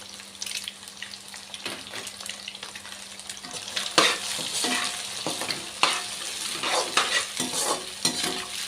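Chicken fried rice ingredients roast in a pan while being stirred, giving a steady close sizzle broken by repeated scraping strokes of the spatula, with no talking.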